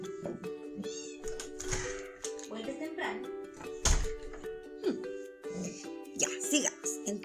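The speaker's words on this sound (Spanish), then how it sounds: "tengo a mi gatita que quiere salir" A pet cat meows repeatedly indoors, wanting to be let outside, its calls rising over a steady background hum with someone speaking Spanish close by.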